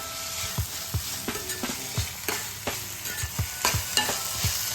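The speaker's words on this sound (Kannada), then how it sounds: "ಆಲೂಗಡ್ಡೆ ಮಿಕ್ಸ್ ಮಾಡ್ತಾ ಇದ್ದೀನಿ." Potatoes being mixed into a frying onion, tomato and turmeric masala for aloo sagu, with a steady sizzle under repeated scraping strokes of a spoon, about ten knocks at a loose rhythm, close and moderately loud, no talking.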